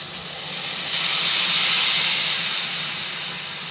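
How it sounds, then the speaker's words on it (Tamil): A strong, steady hiss of tamarind water poured into a hot pan rises, holds for a few seconds, then eases slightly, with no voices. "இந்த புளி தண்ணி இதில் ஊற்றணும்."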